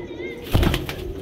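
Pigeons coo in a loft of about twenty birds, a low soft burbling with a brief louder flutter midway, close by over steady background noise.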